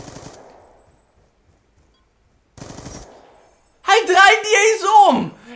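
Rapid gunfire from a Hardcore Search and Destroy match in Call of Duty: Black Ops 2. Short bursts come in separate clusters with silent gaps between them, and the last cluster is the loudest.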